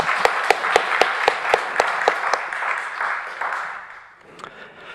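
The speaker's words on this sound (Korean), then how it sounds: "주님께 영광의 박수 하겠습니다" A church congregation at a Sunday worship service bursts into applause, with a few sharp rhythmic claps standing out over the crowd before the clapping fades away after about four seconds.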